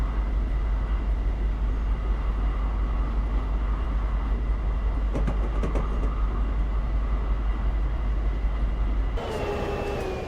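Amtrak Pacific Surfliner train in Train Simulator Classic rolling along at speed, a steady low rumble with rail clatter throughout, joined near the end by a brief rising whine as the sound shifts.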